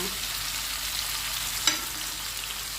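Fish fries on a hot dosa griddle with a steady, dense sizzle and crackle close up, broken once by a brief sharper pop.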